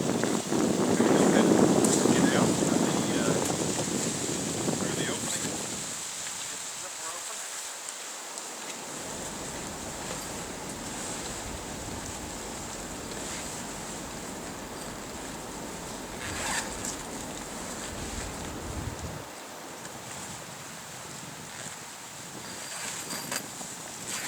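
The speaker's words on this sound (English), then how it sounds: "it's a little bit snowy and windy today" Wind gusting around a snowy hunting tree stand fitted with a stand wrap, a steady broad rushing that is loudest at the start and then settles into a softer constant blow.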